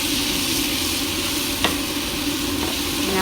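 Fresh coriander and spinach leaves are stirred in a hot pan, giving a constant dense sizzle with one or two faint scrapes of the spoon.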